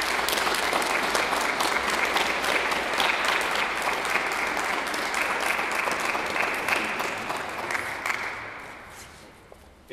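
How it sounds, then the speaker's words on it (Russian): Sustained applause from a large audience at a folk ensemble concert in a church, dense steady clapping that fades gradually toward the end. "Поприветствуем их аплодисментами."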